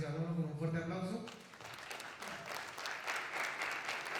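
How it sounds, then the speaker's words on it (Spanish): An audience at a SENNOVA event breaks into applause after a voice finishes speaking, the clapping rising as a steady moderate wash and continuing to the end. "Por favor, recibámoslo con un fuerte aplauso."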